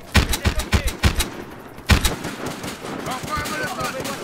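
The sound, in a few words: sniper rifle gunfire in Battlefield Hardline video game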